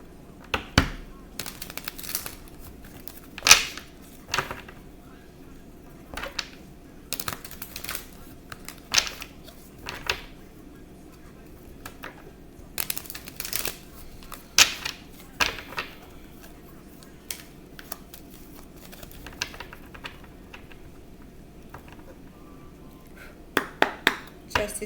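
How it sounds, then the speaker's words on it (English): Tarot cards being shuffled by hand, a series of quick riffling and tapping bursts spaced irregularly over a quiet background, close and soft, with occasional clicks as the deck is squared. "So let me shuffle."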